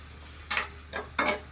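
Chopped fresh green garlic and curry ingredients being stirred in a pot, three short scraping strokes of a spoon at an even pace over a quiet background.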